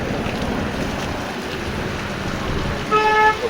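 Steady rain falls outdoors on a rural Assamese road, a continuous broadband wash with a brief tonal honk-like sound near the end; no talking.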